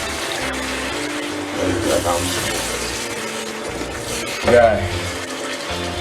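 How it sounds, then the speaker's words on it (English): Water runs steadily into a pot of egusi soup with periwinkle, a continuous splashing pour, close by, with a brief spoken word and a couple of clanks. "I think I should add a little bit of water."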